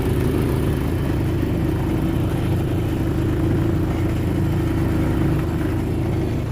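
A Kawasaki Mule with a Duromax 440cc engine spinning its tires on a frozen lake, with a steady, loud, droning engine rumble held at constant revs throughout, no talking.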